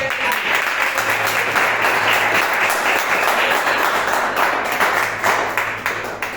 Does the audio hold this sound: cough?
no